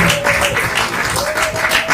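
An audience at the official launch of a magazine applauds loudly and continuously, a dense wash of clapping close by with a steady tone running underneath.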